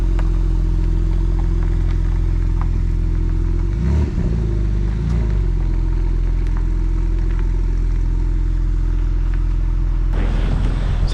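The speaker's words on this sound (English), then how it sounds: "So quite a rare car's just pulled in." A rare Porsche 911 Nick Tandy edition idles close by as it pulls in at a Bicester Heritage car gathering. A steady, deep engine drone carries a short rev-like swell midway and some clatter near the end.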